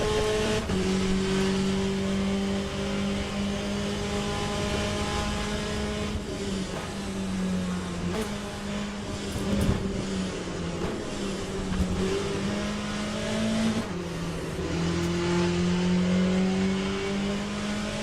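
A simulated race car engine in Le Mans Ultimate revs and shifts continuously, its pitch climbing and dropping through gears with a steady loud drone and brief tyre noise, heard alone without talk.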